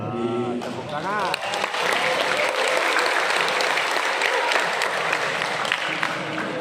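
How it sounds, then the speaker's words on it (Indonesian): An audience at a doctoral promotion defense ceremony claps throughout, the applause steady and fairly loud while an amplified voice speaks over its opening seconds. "Tepuk tangan."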